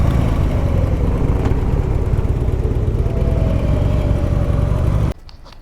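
A friend's motorcycle idles at bike week, a steady loud engine rumble running without a break for about five seconds and then cutting off abruptly, with only quiet background left after.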